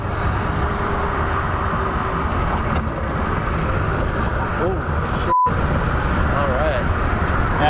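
The three-motor Aptera electric car driving at around 70 miles an hour, a steady, loud road and wind roar that fills the whole stretch, with a brief cut near the end.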